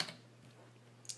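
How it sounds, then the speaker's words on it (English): An IBM Model KB8923 membrane keyboard being typed on, two soft, close key clicks separated by a quiet pause, with no talk. "I'm going to go ahead and type on this"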